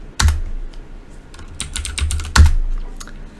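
Computer keyboard typing: a few loud, close key taps in short bursts, with no voice over them.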